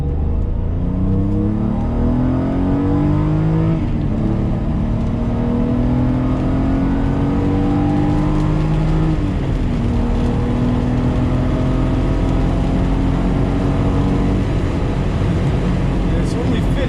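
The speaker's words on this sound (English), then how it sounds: "We are driving an E28 M5." A 1988 BMW E28 M5 drives along a stretch of road, its engine note climbing steadily through the gears with a strong, continuous tone and road noise filling the cabin.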